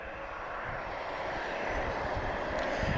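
A Boeing 767 jet taking off at Lisbon Airport, a broad steady engine roar that swells gradually, with no voices.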